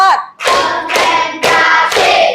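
Pupils in a Year 5 classroom clap their hands together in a rhythmic counting chant, four sharp, loud group claps at an even pace, close by, with a brief vocal sound before the first.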